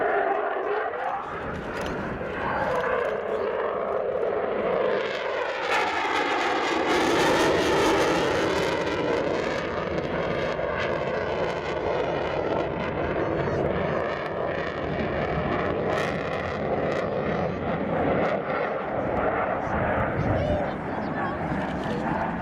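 Eurofighter Typhoon jet flying an airshow display manoeuvre at Southport, a loud sustained roar with rising and falling engine tones that swells midway, heard from a distance with a commentator talking over it throughout.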